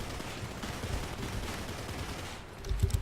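DShK heavy machine guns hammer away from a Ya-5M artillery boat in War Thunder, a quiet, steady rattle of rapid bursts under engine and water noise, with heavier thumps near the end.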